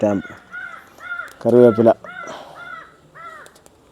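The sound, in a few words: crow cawing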